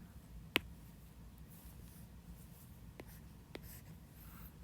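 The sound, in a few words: writing on a page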